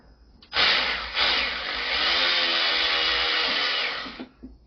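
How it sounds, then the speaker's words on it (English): Electric ratchet whirs steadily for about four seconds while backing out a bolt on a motorized bicycle's clutch-side crank, a close, loud buzzing drone with a brief hitch near the start, then a stop and a few faint clicks. "going to need the electric ratchet to get that bolt"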